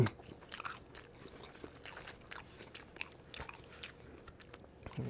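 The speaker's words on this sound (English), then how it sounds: "we're gonna go ahead and try these fries" Close crunchy chewing and biting while eating fast-food fries, with soft irregular crunches and mouth noises repeating steadily throughout and no talking.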